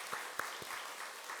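A church congregation claps together during a Sunday worship service, a short, fairly quiet burst of applause with a few sharper claps standing out over the dense patter.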